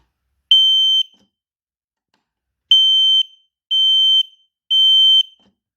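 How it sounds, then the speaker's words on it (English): A carbon monoxide alarm under test sounds loud, high-pitched beeps: one short tone, a pause, then three evenly spaced beeps, alone with silence between. "testing the carbon monoxide alarm."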